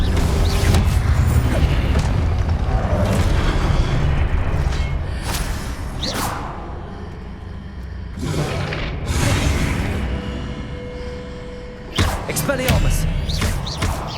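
Explosive blasts from the Confringo spell in Hogwarts Legacy land amid whooshes and thuds from other spells, with repeated booms and mechanical clatter and a sharp hit near the end, loud and close over busy game sound.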